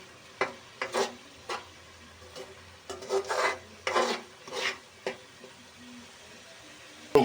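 Egg masala is stirred in a pan, giving a series of quiet, irregular scraping strokes of a spoon against the pan bottom, with soft sizzling between them and no talking.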